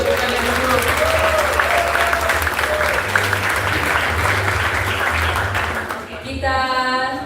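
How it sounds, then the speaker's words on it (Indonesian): Sustained applause from a church congregation at a worship session, steady and loud throughout, with a brief drop and a bright tonal sound entering near the end. "berikan tepukan yang dulu"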